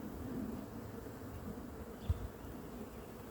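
Honeybees in an open hive hum in a dense, continuous drone, close and steady throughout, with one faint knock partway through.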